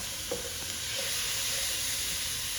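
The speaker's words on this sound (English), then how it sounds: "Okay, stir fry a little more." Vegetables stir-fried in a pan for a Japanese seafood curry give off a steady, close sizzling hiss with a few faint scrapes near the start, and no voices.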